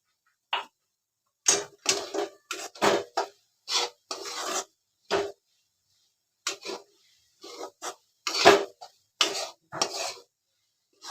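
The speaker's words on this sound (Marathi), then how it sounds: "हे सतत आता ढवत राहायचं." A spoon scrapes and rasps around a pan while a sweet grated-coconut mixture is stirred. The short strokes come in an uneven rhythm with brief pauses, close and clear, and there is no talk.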